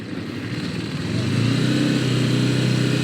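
A motorcycle rides along a road with a steady engine drone that grows louder partway through and then holds, close and alone with no talking.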